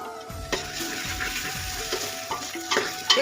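Tomato pieces go into a sizzling gravy in a pan for undhiyu, a close, steady frying hiss broken by a few scraping stirs and soft thumps.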